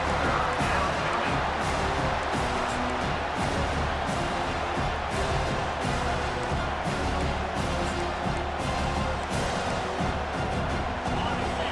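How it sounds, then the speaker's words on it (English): Football stadium crowd during a college game between Colorado State and Miami, roaring steadily on third down as a loud, sustained wall of cheering with no break for nearly twelve seconds. "Decibels rising as the crowd gets behind this defense on 3rd down."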